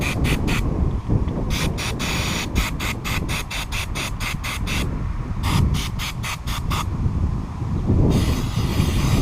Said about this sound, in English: So I'm gonna clean it out the best I can with carb cleaner and some compressed air